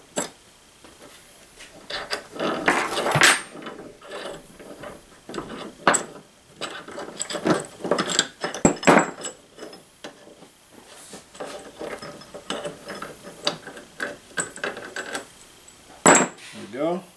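A bench vise being taken off its base, with scattered metallic clanks, knocks and ratcheting clicks of varying loudness from close by, irregularly spaced with quieter gaps, and no voice over them.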